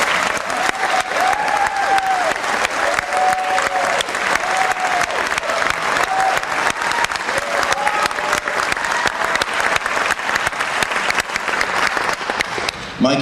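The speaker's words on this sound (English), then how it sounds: "Mike, it sounds like you brought your own cheering section." A large audience applauds and cheers steadily for a candidate at a county sheriff Democratic primary debate, with a dense wash of clapping and voices throughout.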